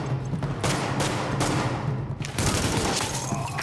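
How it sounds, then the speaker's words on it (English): Heavy gunfire from the video game The Division crackles in dense repeated bursts, loud and close, with a few sharper shots standing out and no speech. "Escort party's taking heavy fire from the roof."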